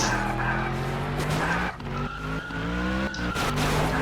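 A BMW skidding in the video game Roblox Vehicle Simulator, loud sustained tire squeal with a revving engine, wavering in pitch with short breaks as the car slides.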